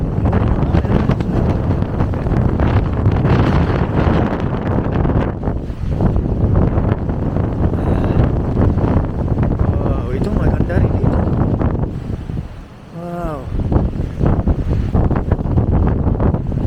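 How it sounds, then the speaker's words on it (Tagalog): Strong wind roars and buffets the microphone in a steady broadband rush at a tourist spot in Infanta, Quezon, with a voice speaking over it; a brief lull comes near the end. "Oh, grabe hangin. Lakas. Lakas doon."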